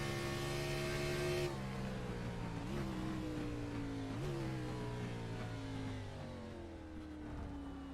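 An LEC NextGen Series race car engine at Road America, recorded from inside the cockpit. Its loud, steady drone holds close throughout, with pitch dips and climbs as the driver shifts.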